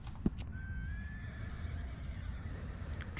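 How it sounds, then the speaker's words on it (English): American Standard Breed horse in the video game Red Dead Redemption 2 gives a single whinny over a low rumbling background, moderately close, with a faint thud near the start. "That's the American Standard Breed Vigilance."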